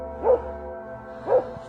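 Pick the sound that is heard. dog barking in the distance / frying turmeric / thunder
dog barking in the distance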